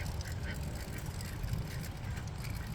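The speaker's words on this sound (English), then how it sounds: "Don't try and catch a duck." A duck quacking outdoors on a fishing trip, a steady burst of honking calls over broad background noise, fairly close and loud.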